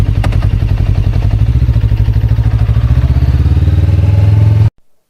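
Close and loud, a Cyclone RA600 motorcycle engine runs steadily with a deep, even, throbbing beat, then cuts off abruptly near the end.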